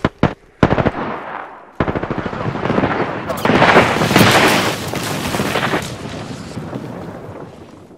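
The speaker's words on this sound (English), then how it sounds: "Firing." Gunfire in Apex Legends: a few sharp single shots open, then dense, loud automatic bursts rattle continuously close by.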